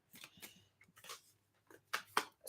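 Tarot cards shuffled by hand in a quiet room, a series of soft papery riffles and flicks ending in two sharper, louder snaps of cards.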